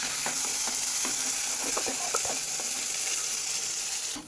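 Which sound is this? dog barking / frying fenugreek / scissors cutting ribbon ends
frying fenugreek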